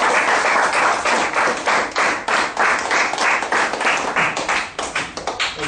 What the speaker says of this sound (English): Shall we have a big round of applause?